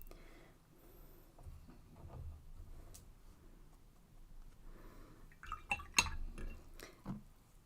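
A watercolor brush splashes in water while painting loose poppies, with faint light drips and dabs followed by a cluster of sharper wet taps and clinks near the end, close and quiet, with no talking.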